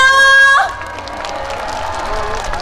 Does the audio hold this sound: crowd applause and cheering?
yes